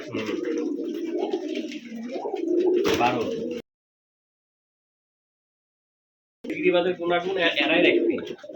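Old-breed Rajshahi Giribaj pigeons at a pigeon farm coo in close, throaty rolling calls, two stretches separated by a silent gap, with voices nearby.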